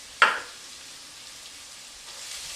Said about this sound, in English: So I'm going to go ahead and add in the peppercorns and the caper berries